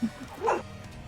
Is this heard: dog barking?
yes